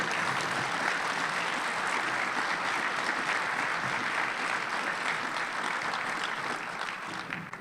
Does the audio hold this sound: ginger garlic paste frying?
no